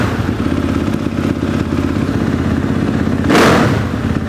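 A KTM motorcycle engine idles steadily and loud up close, a constant mechanical throb with a brief rushing surge near the end, no voices.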